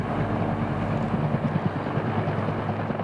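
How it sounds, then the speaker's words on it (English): Firefighting helicopters flying near a bushfire, refilling to keep up the aerial attack: a steady, continuous rotor and engine drone with a low throb runs unbroken throughout, mid-distance, with no voices. "Helicopters filling up to continue the assault from the air,"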